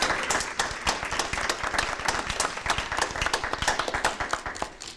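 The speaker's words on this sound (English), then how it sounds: "the least we could do is give James a round of applause" A round of applause at a county education board meeting, a modest group of people clapping in quick, dense bursts that stay fairly close and steady throughout, with no talking over it.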